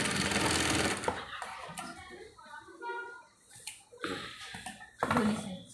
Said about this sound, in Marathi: तिथून शिलाई मारून दोन्ही एकावर एक ठेवून एक सरळ शिलाई मारून घ्या